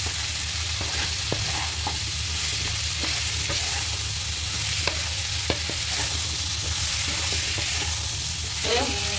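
Pumpkin pieces sizzling in hot oil in a frying pan with green chillies, a dense continuous frying hiss throughout with occasional soft stirring scrapes and clicks.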